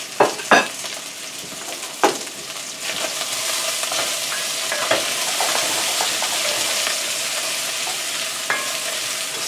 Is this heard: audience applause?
no